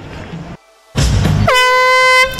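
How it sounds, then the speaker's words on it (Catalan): A loud air horn blares for a sustained, steady blast to start a cross-country race, following a burst of crowd and outdoor bustle, then cuts off sharply. "Botzina i a córrer!"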